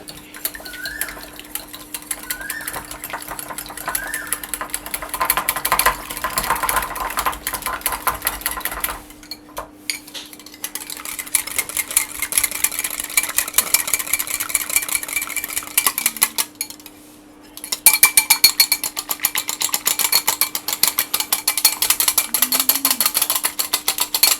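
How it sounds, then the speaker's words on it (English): A whisk beats an egg in a bowl for pancake batter, making a steady run of rapid metallic clicks and scrapes against the bowl that continues with brief breaks. "we're going to just whisk up the egg a little bit"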